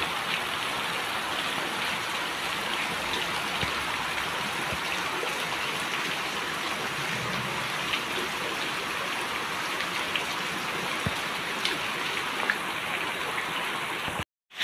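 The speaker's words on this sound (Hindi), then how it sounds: "एत जोर वर्षा" Heavy rain pours steadily in a village during a yagna celebration, a dense, even hiss of downpour that stays loud and constant throughout before cutting off abruptly at the end.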